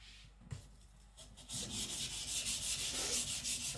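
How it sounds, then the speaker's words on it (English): Hollow-ground Patrik Carlvik custom K-tip gyuto in AEB-L steel at HRC 66 being sharpened, a soft steady rubbing scrape that starts quietly after a small knock and grows into continuous close strokes along the stone. "it's sharpening the knife"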